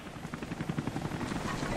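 Helicopter in the video game Rise of the Tomb Raider, a steady rhythmic rotor thump flying away in a prison camp escape, moderately loud over game ambience.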